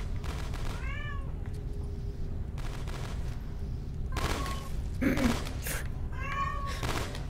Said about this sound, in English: Is your cat meowing too?